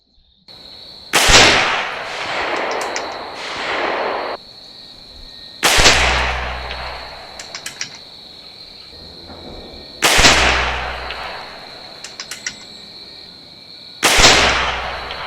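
Four loud, sharp shots from an AEA .338 caliber air rifle firing 87 grain slugs at 50 yards, spaced a few seconds apart, each a crack followed by a short ringing decay, with no talk.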